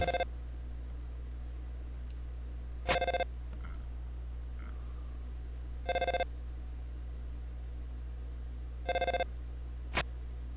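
A telephone in the video game Deltarune rings in four short electronic bursts about three seconds apart, plus a final brief blip, over a steady low hum with no talking.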